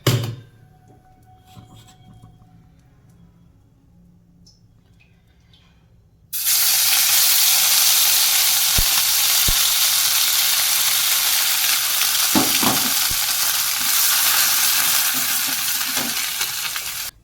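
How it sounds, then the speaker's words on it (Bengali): Loud, steady sizzle of spice paste dropped into hot oil in a wok with a bay leaf, bursting in after a quiet start and holding strongly to the end with a few stirring knocks. "পেস্ট রেডি হয়ে গেছে দিয়ে দেবো কড়াইতে একটা তেজপাতা একটু তেল দিতে হচ্ছে"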